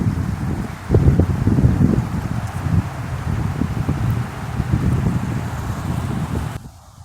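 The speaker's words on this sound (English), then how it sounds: "These winds are whipping." Strong wind whips and buffets loudly and steadily outdoors, rumbling against the microphone for several seconds before easing off at the end.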